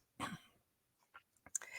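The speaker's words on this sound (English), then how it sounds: "And then I can seem to clear my throat." A person clears their throat with a short, close, rough burst, followed by a few faint smaller throat noises and a final brief clearing.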